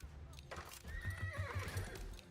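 Horses in the video game Age of Empires IV: a loud whinny over rhythmic clip-clop hoofbeats, close and clear with faint game ambience.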